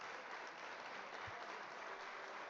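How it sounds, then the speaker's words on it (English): Applause from a livestream audience cheering a forex trader's live-account win, a steady broadband patter of clapping that holds evenly for a couple of seconds. "We'll give claps for Miguel there."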